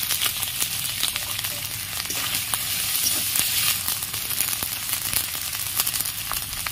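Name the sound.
frying ginger, pepper and fennel paste with chopped tomatoes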